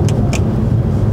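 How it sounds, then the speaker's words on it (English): A learner driver's car engine hums steadily at low revs as it pulls away during a driving lesson, a close continuous drone with two brief clicks early on. "Remember, the noise is good. We need noise. We need engine sound, don't we?"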